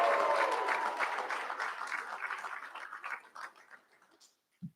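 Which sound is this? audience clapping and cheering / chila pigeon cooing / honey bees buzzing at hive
audience clapping and cheering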